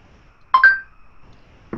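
A mobile phone sounds a short burst of electronic tones on a conference call, two quick bright beeps with a fading tail, followed by a brief click near the end in otherwise quiet surroundings.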